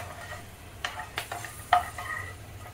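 Almonds frying in ghee in a pan for a Janmashtami dry-fruit panjiri, a faint steady sizzle with a few soft stirring scrapes and clinks, no voices.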